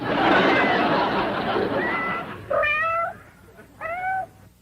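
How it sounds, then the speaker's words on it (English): A pet cat gives two distinct meows near the end, clear and close, after a stretch of indistinct background chatter and faint laughter. "How come you brought along the pussycat?"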